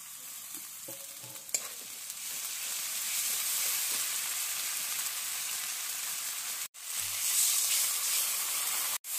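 Garlic and chili sizzle steadily in hot oil for an eel curry, a dense continuous frying hiss with a few utensil clinks early on and a brief break near the end.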